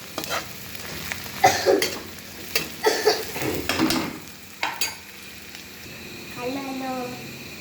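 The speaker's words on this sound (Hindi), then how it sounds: "गोल्डन ब्राउन हो गए, बस इनको हल्का सा और पकाना है प्याज़ों को" Onions fry toward golden brown in a pan, a continuous sizzle broken by repeated scraping stir strokes, with a voice briefly heard near the end.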